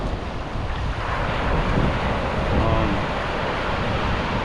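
Large ocean waves surge and break continuously close by at a rocky shore, a loud broadband wash of surf mixed with strong wind buffeting the microphone, with no voices.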